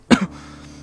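A video game character in Soul Gambler gives a single short, throaty cough that is close and clear, followed by a faint hum.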